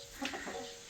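Chickens raised from chicks on a Korean country farm give a brief soft cluck while pecking at watermelon, close and fairly quiet over a low background hum.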